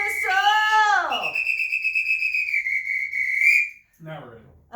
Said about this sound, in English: Gotta do the whistle first.